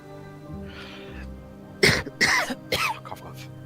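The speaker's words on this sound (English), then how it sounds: "Cough, cough." Three or four harsh coughs come in quick succession after a brief quiet murmur, loud and close.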